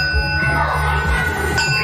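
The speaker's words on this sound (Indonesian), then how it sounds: "Bel waktu sekolah dimulai." An electric school bell rings steadily at the start of morning lessons at a senior high school, a continuous loud metallic ringing that runs the whole time with no speech over it.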